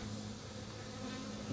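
Honeybees around an open backyard hive, with the queen among them, hum in a steady low drone throughout, close and continuous with no voices.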